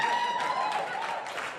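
Comedy club audience applauding a stand-up comic at Gotham Comedy Club, a dense, steady wash of clapping and some cheering that holds throughout.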